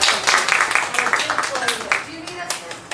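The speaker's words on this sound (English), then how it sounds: "let's give Heather a huge round of applause" Audience applause for a speaker named Heather at a homeownership course session in Key West, a few seconds of steady, moderately close clapping.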